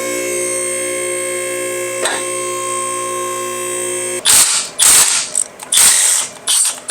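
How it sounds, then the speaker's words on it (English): Ratchet wrench turning on a truck's battery and starter bolts during an LS-swapped OBS truck repair, a steady whirring mechanical tone giving way to several loud, close bursts of clicking ratchet action, no talking. "we're about to disconnect this battery, drop the starter, and tighten the converter bolts once and for all"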